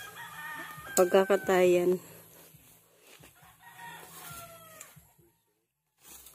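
Chickens and a rooster in a backyard coop: a loud, close rooster crow followed by scattered clucking, with brief speech in the background.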